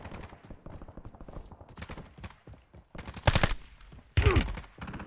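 Call of Duty Black Ops gameplay with two loud bursts of gunfire cutting through rapid, excited talk, plus fainter shots scattered through the stretch.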